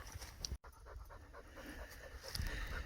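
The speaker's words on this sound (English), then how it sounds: "Just to prove that's Tucker, not me, panting like that" A dog pans heavily beside a trail along a highway in Alberta, a steady run of quick rhythmic breaths close by over outdoor background noise, with a brief dropout partway through.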